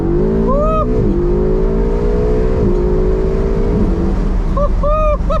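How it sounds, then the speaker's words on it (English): Ferrari 488 GTB with a modified exhaust, louder than stock, accelerating hard: a loud, close roar climbing through the revs with quick gear changes and brief whistling whines near the start and end. "we're gonna give the Ferrari some beans"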